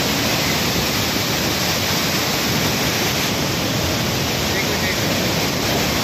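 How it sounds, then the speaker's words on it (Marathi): Water released through twelve curved gates of the Lower Terna dam, opened by 10 cm, rushes into the river below with a steady, loud, unbroken roar throughout. "यामधून पाण्याचा विसर्ग नदीपात्रात सोडण्यात आला आहे"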